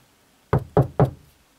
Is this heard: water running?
no